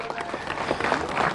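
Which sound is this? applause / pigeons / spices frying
applause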